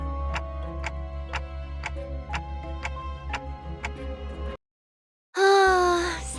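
A clock ticking in the video game Limbus Company, a steady run of crisp evenly spaced ticks over a low drone, then sudden silence followed by a loud swelling tonal effect.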